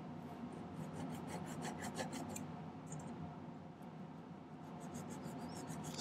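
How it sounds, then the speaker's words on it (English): A hand file rasps steadily against a silver split prong setting held in a miter vise jig. The strokes are close and continuous, with fine scratchy rhythmic pulses and no talk. "Got to be careful not to file it too thin."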